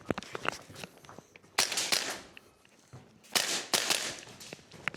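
Jaeger Precision Copperhead airsoft gun firing on semi-auto, a scattering of sharp, snappy single shots at uneven spacing, with some broader bursts of noise between them.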